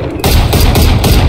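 A loud, close volley of Guardian rifle shots in a Valorant round, several sharp reports in quick succession over barely a second.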